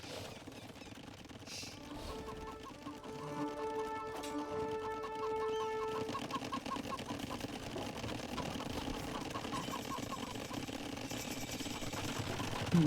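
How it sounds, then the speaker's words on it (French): Chickens clucking in Age of Empires II: Definitive Edition during a ranked match, with repeated short clucks layered over a busy bed of game noise and faint background sounds. "Stop les poulets là. Insupportable ce son."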